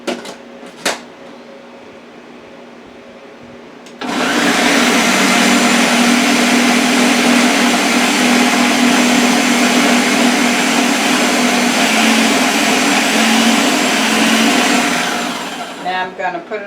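A kitchen blender switches to its boost setting with a sudden jump into a loud, steady whirring roar that holds for about twelve seconds before cutting off, after a few faint clicks and taps beforehand.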